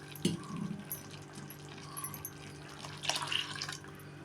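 Water poured into a pot of sprouted chickpea sambar during cooking, giving a soft splashing trickle that rises in two short bursts, close and fairly quiet, with no talk.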